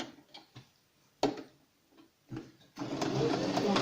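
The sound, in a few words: sewing machine stitching the mask lining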